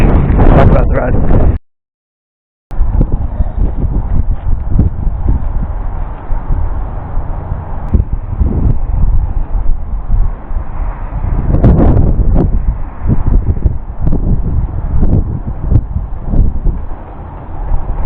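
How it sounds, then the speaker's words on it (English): Strong wind buffeting the microphone during a run in heavy, uneven rumbling gusts, with a brief dropout near the start and no clear talking. "I'm sure you can hear it, but it's pretty windy"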